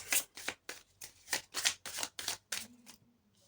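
Tarot cards are riffled and laid out close up in a quick rhythmic series of about eight crisp shuffling bursts, then a soft slap as they settle, with no talking.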